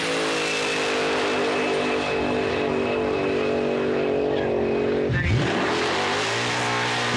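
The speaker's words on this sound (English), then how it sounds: "Then it's all power and how far you can go smoking the tyres" A Mazda fitted with a Toyota engine does a tyre-smoking burnout at a Powercruise event, the engine holding a loud sustained high-rev drone with buzzing harmonics, then dipping abruptly and climbing again.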